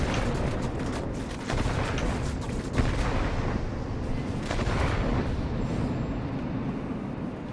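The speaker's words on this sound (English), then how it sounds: "Doing good work with the bombing." Bombs dropped from a bomber aircraft explode in the World of Warplanes flight game, heard as a dense, continuous rumble of blasts and booms over a steady engine drone, with a sharper hit partway through.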